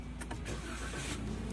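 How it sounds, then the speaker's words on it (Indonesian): A Toyota Grand New Avanza Veloz engine starts at the press of its smart-key push button, then settles into a steady, low, fairly quiet rumble with no voices. "otomatis mobil akan menyala"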